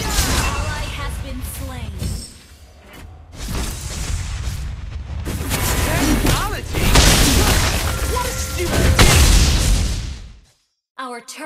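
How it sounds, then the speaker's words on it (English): Turret destruction in the Mobile Legends video game, heavy booming blasts and crashing explosion effects stacked over busy battle sounds, loud and continuous before cutting out abruptly near the end, with game voice lines mixed in. "Our turret has been destroyed."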